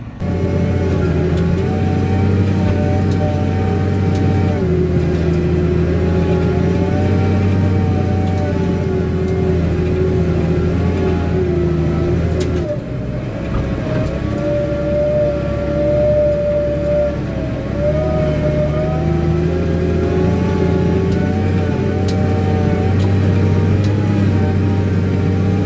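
A tractor engine labours loudly and steadily during a soybean harvest in Rio Grande do Sul, beside a grain cart that keeps bogging down, with shifting tonal whine and drone running continuously throughout.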